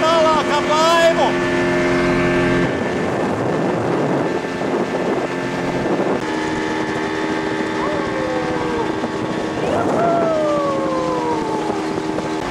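A motorboat heading into mangrove swamps in Cuba drones steadily up close, with gusts of wind buffeting the microphone, whining tonal sweeps and people talking over the engine.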